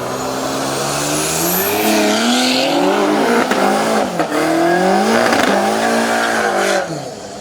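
Audi and BMW all-wheel-drive race cars at a Canadian drag racing event, loud engines revving and accelerating up through the gears with repeated shifts, close and powerful, fading slightly at the end.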